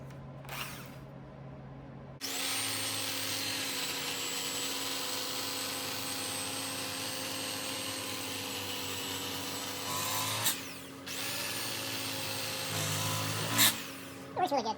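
An electric carving knife cuts seat foam for a 1927 Ford TT, buzzing continuously for around eight seconds, then running in shorter bursts with brief pauses, fairly quiet overall.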